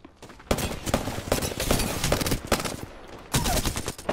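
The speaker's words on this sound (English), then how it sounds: "Getting shot at." Rapid bursts of gunfire from an Apex Legends match, loud and continuous with dense overlapping shots, a brief lull near the end before another volley erupts.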